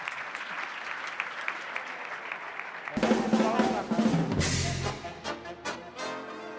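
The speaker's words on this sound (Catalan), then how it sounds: "Despedim amb un fort aplaudiment a Pepe Coloma" An audience at a student presentation event in Biar claps for a departing guest, light applause swelling into a louder, fuller ovation midway, with a musical tone and possible voices mixed in toward the end.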